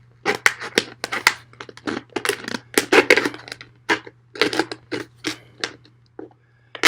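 A CRKT Scrub knife cuts into a standard plastic soda bottle, giving a series of sharp crackling, crunching snaps and plastic pops in irregular bursts, close up and fairly loud over a faint steady hum.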